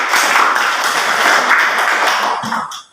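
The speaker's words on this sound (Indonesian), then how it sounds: "tepuk tangan dulu" Classroom applause for a student's correct answer, a dense wash of many hands clapping steadily for nearly three seconds before tapering off at the end.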